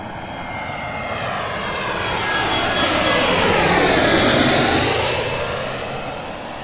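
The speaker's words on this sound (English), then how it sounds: "It's a big plane." A large airplane passes overhead outdoors at a lakeside fish fry, its jet roar swelling steadily to a peak midway and then fading slowly, with no one talking.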